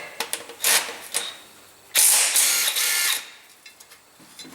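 A power tool rattles off the flywheel bolts during a clutch job on a Hyundai, in two loud bursts of rapid hammering separated by quieter clicks and handling noises.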